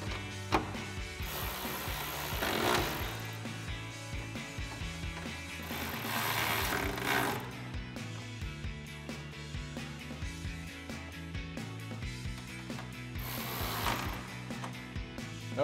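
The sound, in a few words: ratchet tightening bolts on F-150 grille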